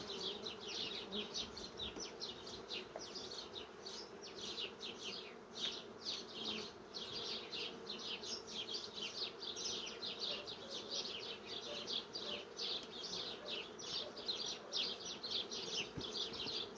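Honey bees laden with pollen crowd the hive entrance, making a steady close buzzing hum with overlapping wingbeats throughout and no talk.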